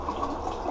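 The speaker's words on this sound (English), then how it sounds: "Give it a flush, see what we're dealing with." A toilet flushing up close, a brief rushing gush of water into the bowl, loud and continuous.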